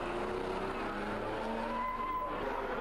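Historic pre-1977 Grand Prix race cars at Monaco, led by a BRM P133, howl through the Rascasse corner, a loud, sustained engine whine that rises and falls in pitch, with no pause in the noise.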